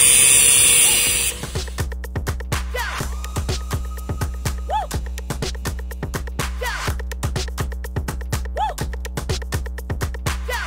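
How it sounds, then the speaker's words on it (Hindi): A power tool cuts a scooter exhaust pipe before welding, a loud harsh burst at the start giving way to a rapid, regular series of clicking strokes that repeat steadily close by. "तो कटिंग किया जा रहा है अच्छा से वेल्ड करने के लिए, मिलाने के लिए।"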